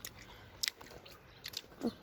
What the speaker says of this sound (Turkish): Arkadaşlar herkesin çiğnediği anlaşılsın. Bakın sesi dinleyin.